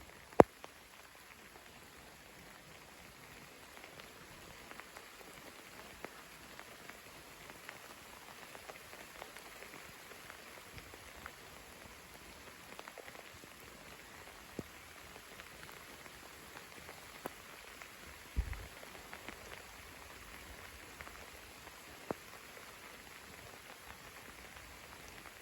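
A nighttime rain shower falls steadily as a soft, even hiss with scattered faint drop ticks and occasional sharper taps nearby, with no thunder and no voices.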